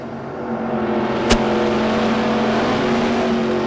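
Pro Mod drag race car at a drag strip, the driver whomping on the throttle, heard as a loud, steady engine roar with a single sharp crack partway through, continuous throughout and with no talking.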